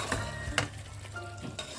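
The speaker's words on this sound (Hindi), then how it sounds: "अभी मैं लो फ्लेम पे लीड लगा के इसे तब तक पकाऊंगी जब तक चिकन अच्छे से कुक नहीं हो" Chicken biryani mixture cooking in a pan over a low flame, giving a steady soft sizzle and frying hiss with a few faint stirring scrapes, close and alone without talk.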